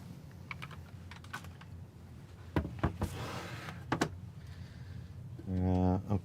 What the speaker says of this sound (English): It's a Chinesium mechanical keyboard, but I bought it because it's hot swappable.